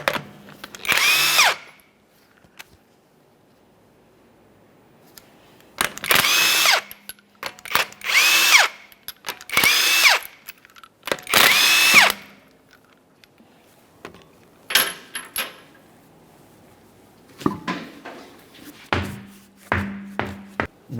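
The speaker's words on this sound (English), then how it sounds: "you want to remove all 5 of your 21mm lug nuts" A power tool spins off the 21mm lug nuts on the right front wheel of a Toyota Sienna. There are about eight loud, close bursts with quiet gaps between them, and no talking.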